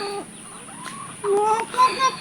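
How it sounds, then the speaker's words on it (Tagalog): Chickens clucking and squawking noisily in a group, with rising and falling calls over a steady background hiss. "Kaya naman yung mga manok ay nagkakanda ingay-ingay"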